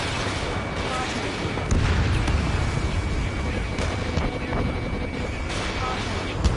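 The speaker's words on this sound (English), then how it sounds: "Trigger on VIP. Missiles. Missiles. Taking fire" Missile explosions and gunfire rumble without a break in the Ace Combat 7: Skies Unknown video game. The heavy, dense booms stay loud and steady throughout.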